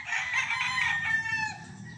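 A Larry Romero sweater gamefowl rooster crows in one long, loud, drawn-out call lasting about two seconds, close by and alone.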